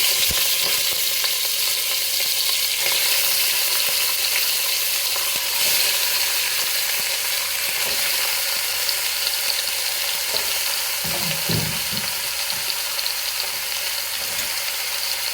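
Mutton pieces frying in a shallow layer of hot oil, a steady dense sizzle running the whole time with occasional stirring scrapes and clinks, close and alone with no voices.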